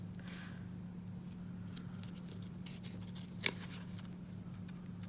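Small paper-crafting scissors fussy cutting around stamped cardstock, quiet intermittent snips and paper rustles close by, with one sharper clipped snip standing out partway through.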